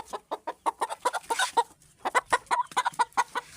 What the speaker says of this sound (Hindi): मुर्गी हमारी अंडे दे रही है जी